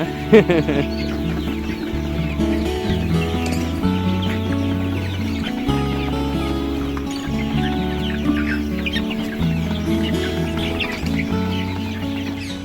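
A poultry farm with a rooster and hens gives off busy clucking and calling, with chicks chirping throughout, layered over steady background noise and occasional voices.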